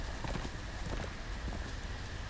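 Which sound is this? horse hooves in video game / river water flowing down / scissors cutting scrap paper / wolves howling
horse hooves in video game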